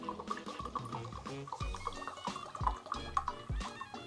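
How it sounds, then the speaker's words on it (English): Whiskey poured from a glass flask into a glass, a quiet continuous trickle with little splashes and drips running for several seconds. "Let's see how long it takes to pour 4 ounces of whiskey into a glass."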